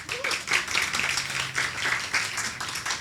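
Audience applause for the organisers of an animal-welfare event, a dense steady patter of clapping lasting throughout, moderately close with a faint murmur of voices beneath.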